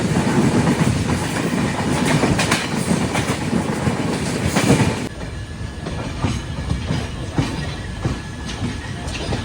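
A Delhi-to-Vizag passenger train rumbles along its rails with a loud, continuous roar and rhythmic clatter, then the noise drops to a softer, steadier run partway through.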